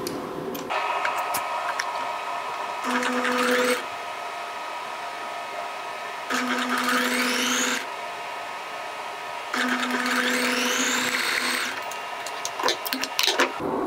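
A sewing machine stitches a coat collar in three whirring runs of several seconds each, separated by quieter pauses with light clicks.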